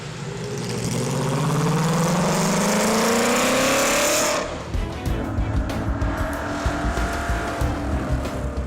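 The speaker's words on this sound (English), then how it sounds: "The sound of the 8-cylinder engine," Mercedes-Benz 300 SLR endurance racer's 8-cylinder racing engine roars loud and close, revving up steadily for about four seconds before cutting off, leaving a rough idling burble.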